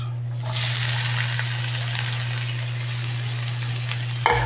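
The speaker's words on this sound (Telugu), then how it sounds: "మనం కోసి పెట్టుకున్న ఉల్లిగడ్డలు ఉల్లిగడ్డలు మిరపకాయలు వేసుకుందాం" Chopped onions and green chillies hit hot oil for egg bhurji, setting off a sudden close sizzle that holds steady and loud, ending with a brief clunk of a utensil.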